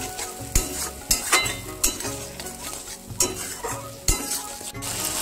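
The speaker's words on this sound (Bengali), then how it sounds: "বন্ধুরা 2 থেকে 3 মিনিট আমি কষিয়ে নেবো এটা, যতক্ষণ কাঁচা গন্ধ না চলে যায়।" Turmeric, dried chili powder and salt sautéing in a hot pan, a steady sizzle broken by sharp scrapes and clinks of a spoon stirring against metal every second or so, close up with no talk.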